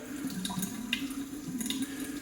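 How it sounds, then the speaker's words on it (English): A drop or two of water trickles onto a Meissner Tremonia shaving soap puck, heard as light running water with a few small splashes and a faint drip. Close and moderately quiet, with no talking. "Slight drop or two of water."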